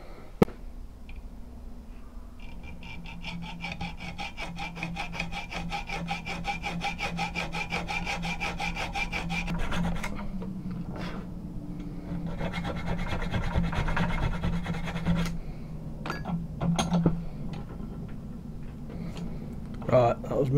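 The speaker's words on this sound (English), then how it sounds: "that was me just putting a little groove into the nut" A file cuts a small groove into a metal nut for a stacked-leather knife pommel, a close, steady back-and-forth rasp that repeats for many strokes before ending in a few scattered taps and scrapes.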